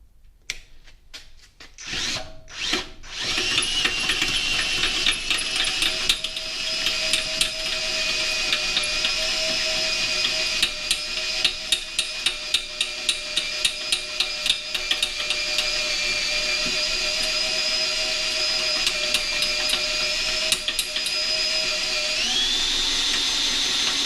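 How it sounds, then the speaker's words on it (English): A hole saw bores through the metal air box of a 1978 Yamaha XS650 motorcycle, with a loud sustained whining grind and rapid rhythmic chatter after a few brief start-up bursts. "We got a sleeve in here, we got a hole saw, and we'll see if this works."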